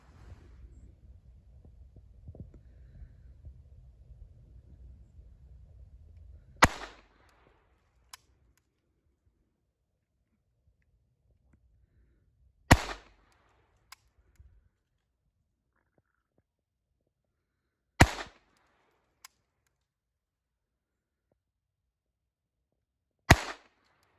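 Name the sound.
Ruger SR22 pistol gunshots at range, double action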